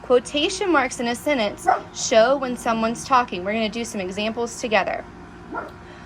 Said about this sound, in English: Sorry if you can hear my puppy barking.